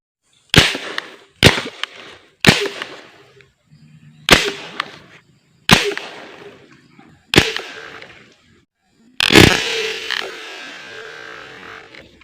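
Sharp close shots from an air gun test-firing a new DIY stainless barrel, seven loud cracks spaced about a second apart, each with a short ringing tail, the last followed by a longer rustling rumble.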